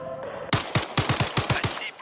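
Rapid bursts of video game gunfire, about eight sharp shots in quick uneven rhythm, loud and close, alone without talk.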